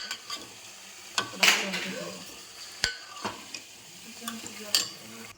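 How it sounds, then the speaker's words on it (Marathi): Fish curry (fish bhaji) frying in a pan while being stirred, with a faint sizzle under intermittent scrapes and clinks of a spoon against the pan, close and moderately quiet. "आता थोडस असं फ्राय कर"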